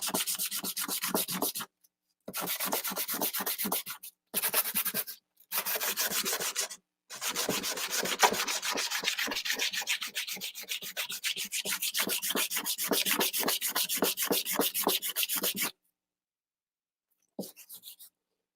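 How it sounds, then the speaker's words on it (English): Sandpaper held down under a drill press rasps in fast back-and-forth strokes during lightsaber hilt crafting, the rubbing coming in several bursts split by short pauses, then one long steady run before it stops. "You can tape down your sandpaper."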